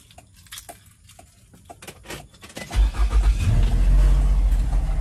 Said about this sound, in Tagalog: So, start na natin yung car.